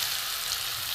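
Spice paste and the water used to rinse the mixer hit hot oil in a pan for a vegetarian cabbage paturi, giving a steady, close, loud sizzle and hiss that carries on without a break and with no talking.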